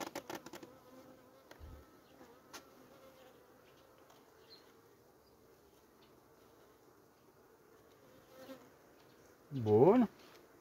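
Honeybees in a small nucleus colony being set up with a virgin queen give a faint, steady hum, then one loud close bee buzzes past briefly near the end.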